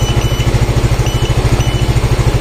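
A motorcycle engine idles steadily up close with a loud, even, rapid low thump, connected to a diagnostic code scanner.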